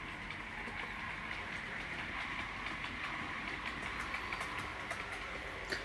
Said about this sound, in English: I thought I'd start off with the Class 25 on the inner line, because A, it's a nice diesel